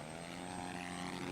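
Biplane propeller engine droning steadily in a video game, a loud continuous buzz with strong harmonic tones holding even throughout.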